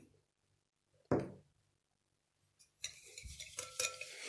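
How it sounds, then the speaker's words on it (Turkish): Hand whisk beating four room-temperature eggs with a cup of sugar in a bowl: a single sharp clink, a quiet pause, then quick, rhythmic scraping clatter that builds and keeps going. "çırpıcıyla güzelce çırpıyorum"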